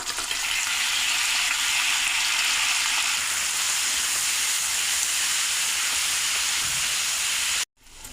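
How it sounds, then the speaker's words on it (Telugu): Boiled broad beans hit a hot pan with onions, setting off a loud, steady hissing sizzle that carries on for several seconds before cutting out abruptly near the end. "చిక్కుడుకాయలు వేసుకుందాం"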